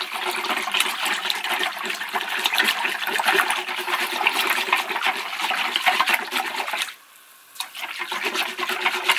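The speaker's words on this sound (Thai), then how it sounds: "คนให้ยาสีฟันละลายนะ" Toothpaste stirred into a container of water to dissolve it, a steady close rushing, swishing water sound that briefly drops out near the end before resuming.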